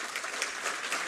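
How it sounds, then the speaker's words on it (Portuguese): Applause at a formal ceremony in a court hall, a brief stretch of even crowd clapping, fairly quiet and distant-sounding. "Uma salva de palmas a todos"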